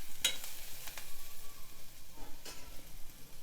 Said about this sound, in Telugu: ఇలా మూత పెట్టి ఉసిరికాయ కొంచెం వేగనివ్వాలి